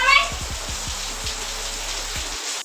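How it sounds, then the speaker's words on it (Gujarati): Heavy rain pours outside a house, a constant wash of falling water with a brief burst of voices at the start and a few low knocks, cutting off abruptly near the end. "ઘરના બહાર વરસાદ ચાલુ છે"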